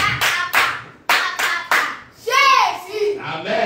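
Children clap together at a Bible quiz game, several quick bursts of applause in rhythmic groups, with a voice briefly speaking near the end.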